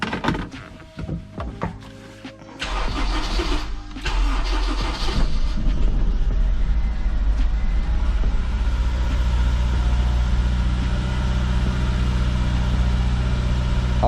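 A Honda S2000 cranks and fires up after a spark plug change, its engine catching with a loud surge and then settling into a steady, close idle.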